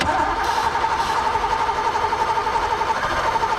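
A long-dormant Ford Mustang Foxbody with four-eye headlights and unset ignition timing cranks steadily with a rough, uneven firing note, holding a fairly loud, continuous mechanical churn with no voices.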